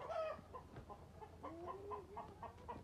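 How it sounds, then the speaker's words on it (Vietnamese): Chickens clucking in an egg-laying pen at a tourist area, several soft overlapping clucks and short calls at moderate distance, continuous over a quiet outdoor background. "đây khu này đang nuôi gà các bạn nuôi gà nó đang có trứng này"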